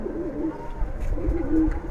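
A Giribaj pigeon coos close by, soft low rolling calls repeating in a gentle rhythm over a faint room background.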